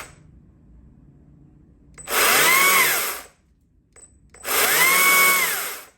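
A Stihl MS120C battery chainsaw revs up twice, each a sudden full-speed whine lasting about a second before cutting off abruptly, with a near-silent pause between the two bursts.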